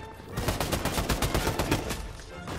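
Rapid bursts of gunfire from a video game, likely Fortnite, with a fast, steady string of loud close shots filling most of the moment before easing off.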